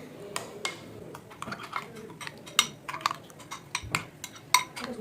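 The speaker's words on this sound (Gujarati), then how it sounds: "આ બધો મસાલો મસ્ત મિક્સ કરી દઈએ" Spices being mixed into grated boiled potatoes in a bowl for a fasting-style potato raita, with light scraping and clinking of a spoon against the bowl, quick irregular taps close by, no talking.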